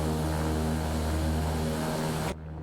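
A propeller airplane engine in a flight simulator game drones loud and steady as a continuous tonal hum, then drops suddenly to a quieter level near the end.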